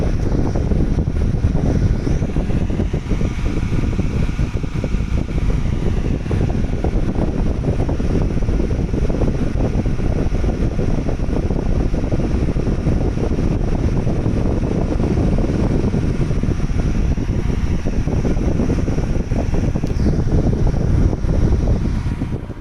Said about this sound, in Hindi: आगे वाला जो हिस्सा है यहाँ से हवा को यह खींच रहा है